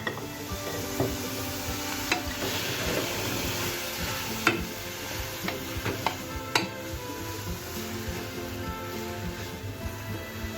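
Carrots for Indian carrot halwa sizzle in a pan while being stirred: a constant frying hiss with repeated scraping strokes and occasional sharp utensil knocks against the pan.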